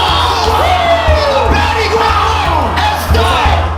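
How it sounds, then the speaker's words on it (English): An MMA arena crowd roars and cheers after Paddy Pimblett's first-round knockout win, with loud whoops, yells and rising shouts over a continuous wall of crowd noise. "The crowd erupted."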